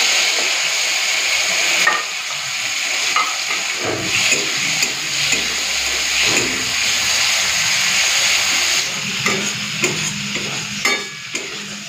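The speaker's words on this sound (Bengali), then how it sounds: "এই তেলে চিংড়ি মাছটা ভেজে নিই।" Prawns fry in a pan of oil, with a continuous hissing sizzle broken by spatula stirs and scraping knocks, heard up close and without talk.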